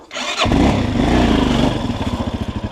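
A Forte CBA 250 Chinese enduro motorcycle on an off-road trail starts with a sudden, loud, close roar, holds a steady rev, then settles into a pulsing, chugging throttle rhythm.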